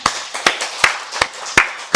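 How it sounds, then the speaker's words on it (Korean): A congregation at a Wednesday worship service in a Korean Full Gospel church claps in a steady rhythmic beat, sharp regular claps about three per second. "우리 살아계신 하나님께 박수 영광 드리겠습니다."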